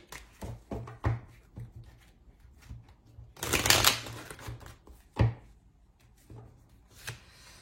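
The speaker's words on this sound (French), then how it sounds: "j'attends de tirer encore 3 cartes" A deck of tarot cards is shuffled and drawn by hand nearby, with quick riffling flutters, one louder sustained burst of shuffling, and soft taps and slides of cards in between.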